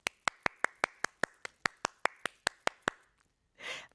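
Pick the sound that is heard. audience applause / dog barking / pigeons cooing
audience applause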